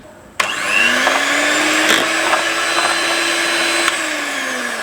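Electric beater whirs on as it whips powdered sugar into homemade vanilla ice cream mixture, starting abruptly and holding a loud, steady motor whine with a slight pitch drift and a few light clicks.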